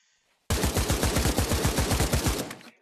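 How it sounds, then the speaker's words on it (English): AK-47 assault rifle fired in a rapid automatic burst of roughly twenty sharp, closely spaced gunshots lasting about two seconds, loud and close with no talking. "This is an Antonov Kalashnikov 47. Very popular gun."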